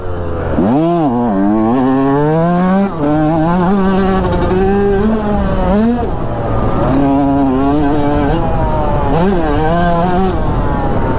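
A dirt bike engine, a Yamaha with KYB suspension, revs loud and close as the rider repeatedly rolls on and eases off the throttle, its pitch rising and sagging in continuous waves.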